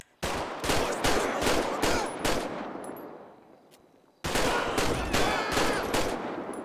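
Rapid bursts of pistol gunfire in GTA V LSPDFR, a dense run of close, loud shots that trails into echo, then a sudden second volley after a brief near-silent gap.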